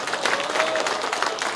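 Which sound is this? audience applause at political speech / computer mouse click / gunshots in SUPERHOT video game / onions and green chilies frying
audience applause at political speech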